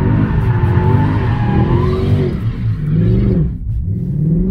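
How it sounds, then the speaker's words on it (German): Tires on a Mercedes C63 AMG squeal and skid while drifting, mixed with the engine revving hard, loud and close, with a pitch sweep as the car slides and the throttle lifts. "Die Reifen rutschen richtig."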